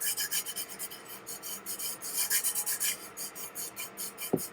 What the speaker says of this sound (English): some of these spots I'm having to rub really hard to get these little chunky spots out of here